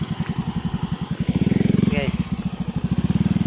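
A motorcycle engine putters in a steady, close idle rhythm while a rider learns to balance on it, with a person speaking briefly over the engine.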